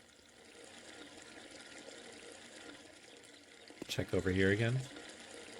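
Rushing water effects in the video game Gabriel Knight 3 run as a steady wash of noise throughout, with a person speaking briefly near the end.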